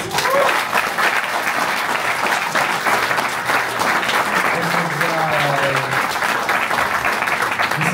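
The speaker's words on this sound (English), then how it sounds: "we gotta give this a round of applause" An audience at a live chess event in Hamburg breaks into sustained, dense applause that holds at an even level throughout, with a few voices calling out faintly underneath.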